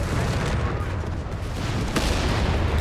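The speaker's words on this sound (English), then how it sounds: "Mortars on the way here for GT." Mortar and artillery fire in the World War II strategy game Company of Heroes 3, a dense continuous rumble of distant booms and shots with a sharper crack near the end, steady throughout.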